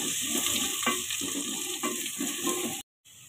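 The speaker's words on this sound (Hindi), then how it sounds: "प्याज को ब्राउन कर लेंगे," Onions sizzle and fry in a pan as they brown for a shorba, a steady close crackle with occasional stirring bumps, then a brief cut to silence near the end.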